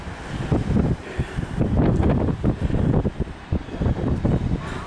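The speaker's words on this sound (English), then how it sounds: "Wind's got up a bit." Gusty wind buffeting the microphone at the top of Lincoln Castle, loud rumbling rushes rising and falling continuously for several seconds.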